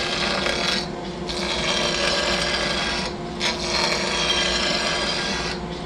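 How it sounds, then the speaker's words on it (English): A skew chisel takes a planing cut along a beech blank spinning on a lathe between a cup drive and live center, a close, steady hissing shave interrupted by short pauses as the tool is repositioned. "I'm going to get ready to do a planing cut."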